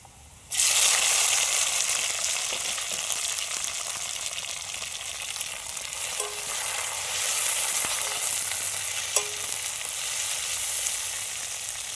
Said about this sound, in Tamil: இந்த ஸ்டேஜில் நம்ம தக்காளி சேர்த்திக்கலாம் ஒரு மூணு தக்காளி